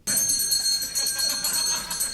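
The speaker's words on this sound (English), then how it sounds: "Now, that bell ring. Very long, wasn't it? It's a very long bell ring." A long, sustained bell ring with a bright metallic tone that rings continuously for about two seconds after a sudden start, loud and close, with no speech.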